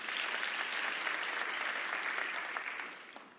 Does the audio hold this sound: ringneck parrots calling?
no